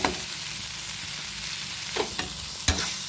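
A spice mixture sautéing in hot oil in a pan, a constant sizzle broken by a few sharp scrapes and knocks of a spoon stirring it.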